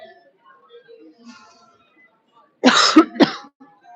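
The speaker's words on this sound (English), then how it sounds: "Sorry for coughing." Two close, harsh coughs in quick succession, loud and near, after a stretch of faint background murmur.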